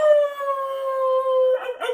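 A human voice imitates a howling dog beside a bog: one long, loud, close wavering howl gliding slowly downward, breaking into short yelping cries at the end.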